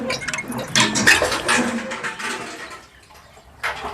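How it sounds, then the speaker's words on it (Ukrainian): Fresh water drawn into buckets at a village well on a hot morning, a close, continuous splashing and pouring with a few metallic clinks, easing off near the end before a brief fresh gush. "Зараз швиденько наберемо води."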